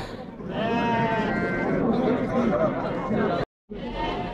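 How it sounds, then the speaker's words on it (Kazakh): Many lambs bleat loudly and continuously at close range at a livestock market in Kara-Balta, overlapping cries filling the space with a brief silent gap near the end. "Қозу көп, ягнят очень много."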